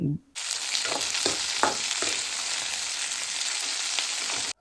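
Onions, chilies and tomatoes fry in a pan for a village-style bottle gourd curry, a loud dense sizzle starting abruptly, with a few stirring scrapes early on, then steady to the end.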